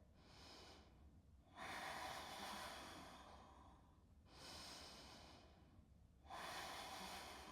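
Slow, deep breathing while a person holds a hatha yoga pose: three long, loud breath cycles, each a sustained airy rush separated by short quiet gaps, close and alone.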